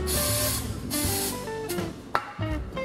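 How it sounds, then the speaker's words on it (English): Short hissing bursts of spray grease hit a parking brake adjuster on a Jeep WJ axle, two close spurts followed by fainter hisses over steady background music. "Go ahead and grease it up as well."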